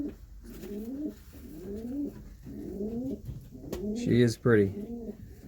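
Banded pigeons coo in repeated soft, rolling phrases, about four close calls in a row, before a person briefly speaks near the end.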